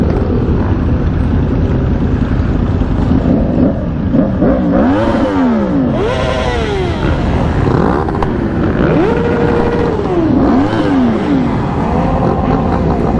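Several motorcycles, Yamahas and dirt bikes among them, rev loudly and repeatedly during a city group ride, their pitch sweeping up and down against a dense, continuous engine roar.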